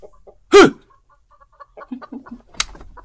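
Chickens clucking on a farm, a loud burst early on followed by a string of short clucks, then another sharp squawk near the end, with no talk over them.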